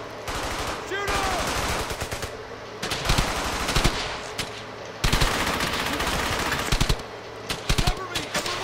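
Heavy automatic gunfire in the World War II shooter Brothers in Arms: Hell's Highway, continuous loud rapid bursts layered with other shots, with brief shouted voices.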